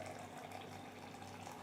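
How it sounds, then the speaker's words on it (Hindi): Boiling water poured from a cup into a container of jelly powder for a custard trifle, a steady, faint, continuous splashing pour with no pauses and no talk. "हम इसमें बॉइलिंग वाटर डालेंगे।"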